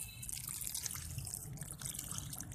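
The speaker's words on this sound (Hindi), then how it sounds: "अब इसको थोड़ा सा पानी डाल देते हैं।" Water poured onto a potted canna lily plant, a steady splashing trickle into soil, close and continuous throughout.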